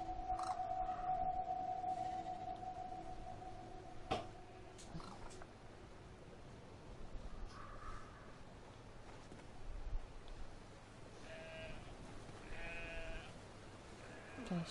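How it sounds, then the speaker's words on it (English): Several sheep bleats rise and fall over a steady droning ambience with a sustained tone in the game Brothers: A Tale of Two Sons, fairly faint and scattered across the stretch, no talking. "I know, sheep."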